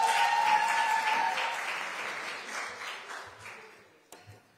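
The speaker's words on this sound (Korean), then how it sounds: "힘찬 박수 부탁드리겠습니다" Audience applause at a Korean book launch event greets a National Assembly member stepping up to give congratulatory remarks, a dense, steady wash of clapping that slowly fades over several seconds and trails off into a few scattered claps.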